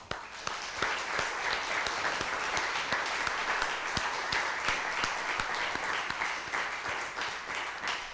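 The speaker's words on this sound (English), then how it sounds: "huge round of applause for Bobby" A concert audience at a school music concert gives sustained applause, many hands clapping steadily and evenly throughout before the first string ensemble performs.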